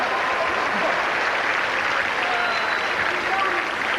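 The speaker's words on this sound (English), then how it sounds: "how about a nice round of applause?" A crowd applauds after a tennis match at Arthur Ashe Kids Day, a dense, steady wash of clapping and cheering that holds evenly throughout, with voices mixed into the noise.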